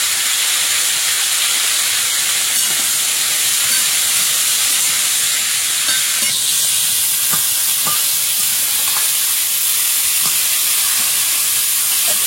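Fish frying in hot oil in a wok at an outdoor Sundarban village kitchen, a steady loud hiss and sizzle with occasional crackles and stirring clicks, no talking.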